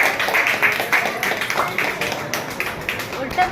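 At a party, several people clap in a quick, uneven rhythm close by while voices sing and chant over them.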